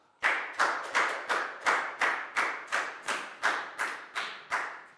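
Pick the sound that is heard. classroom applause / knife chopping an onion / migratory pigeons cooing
classroom applause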